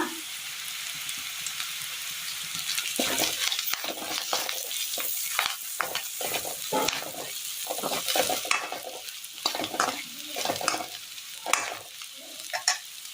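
Coconut pieces frying in a hot pan with crackling sizzle and frequent stirring scrapes, growing busier after the first few seconds; no talking.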